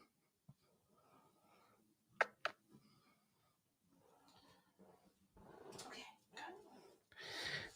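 A dog whimpering faintly in a quiet indoor room, with soft scattered whines and a few sharp clicks, getting slightly louder toward the end.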